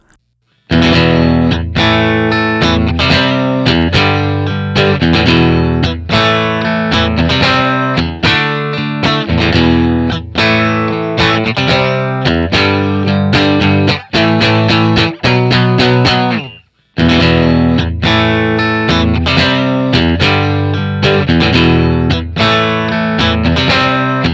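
Distorted electric guitar plays loud, driving chords and riffs through a vintage Fender Blackface or Silverface tube amp, with a brief pause before the playing resumes.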